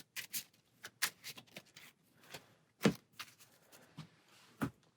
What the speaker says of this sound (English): For Kang, we need to shuffle our encounter stack and deal ourselves a card